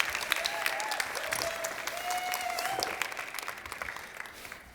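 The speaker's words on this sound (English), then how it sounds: "Let's give them a round of applause to get some energy going for them." A floral design competition audience applauds the contestants with a soft, continuous wash of clapping from a distant crowd, faint and even throughout, with a brief tonal whine audible in the background.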